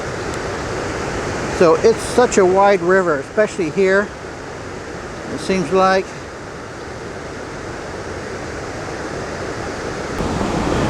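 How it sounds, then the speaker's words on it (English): Rapids and a small waterfall on the wide Niagara River at Niagara Falls State Park keep up a steady rushing wash throughout, with someone talking briefly over the constant water noise. "just to the right here though is some rapids and a little bit of a waterfall here"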